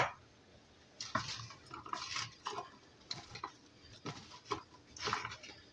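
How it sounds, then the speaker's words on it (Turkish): Potatoes tossed with salt and oil are stirred in a bowl, with soft, irregular scraping and clinking strokes of a utensil repeating close by at a quiet level. "Şöyle karıştırdıktan sonra patateslerimi diziyorum"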